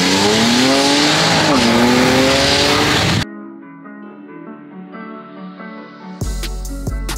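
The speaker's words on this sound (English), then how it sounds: "You want to see how the launch control sounds?" BMW E92 335i on launch control, a loud, harsh engine roar held at high revs before it cuts off, followed by quieter idling and a sharp burst of noise near the end.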